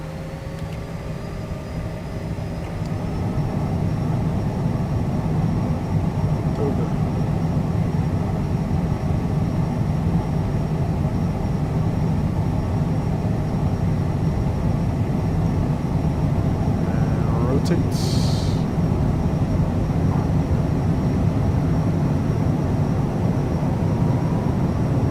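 A Citation CJ4 business jet in Microsoft Flight Simulator spools up for takeoff, its engine roar swelling after a few seconds into a steady, loud drone with a faint high whine that holds to the end.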